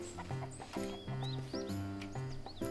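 Chickens in the survival game Mist Survival cluck in short repeated bursts, close and fairly loud, with chirpy higher calls in between and no talking.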